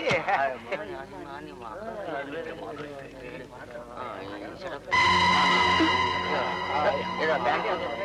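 In a Telugu film scene, voices talk, then a car arrives and skids to a stop with a loud, sustained tire screech.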